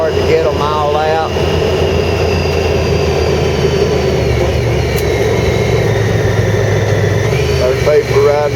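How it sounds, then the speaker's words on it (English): Four-wheelers rev and drive through floodwater, a loud continuous engine drone with rising and falling revs, while voices come through briefly at the start and end. "There's people riding around on four-wheelers with me."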